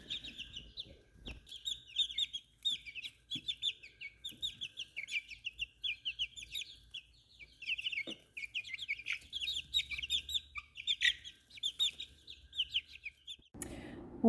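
Chickens and young chicks cluck and chirp almost nonstop while pecking at grub treats, a dense busy chorus of short calls close by, with a louder burst near the end.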